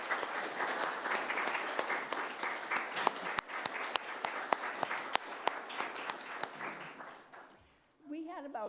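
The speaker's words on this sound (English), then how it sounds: "Let's finally clap our hands for the verve and talent of all the participants" A congregation at a Sunday service applauds participants in a steady, dense round of clapping with a few sharp nearby claps, fading out near the end before a voice begins speaking.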